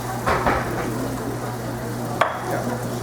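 Soft sizzling in a preheated frying pan with sun-dried tomato and basil, a steady faint crackle broken by a couple of light stirring or tapping knocks, close by with no talk.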